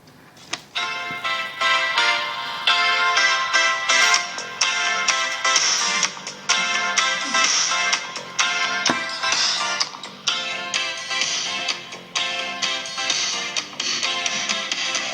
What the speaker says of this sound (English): I'm not going to play the whole song, don't worry,